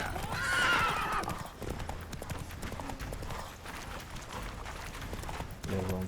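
A horse in The Witcher 3 video game gallops with rapid hoof clip-clops and lets out a loud neigh near the start, and the hoofbeats keep running steadily through the rest of the clip.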